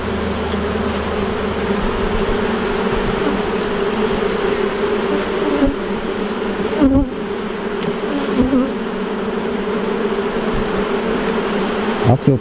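Dense, steady buzzing of many honey bees around an opened hive during an inspection, a close and continuous hum with a few light knocks and handling noises.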